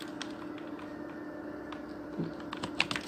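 Typing on a computer keyboard makes soft, irregular key taps up close over a low steady hum, with clicks growing busier toward the end.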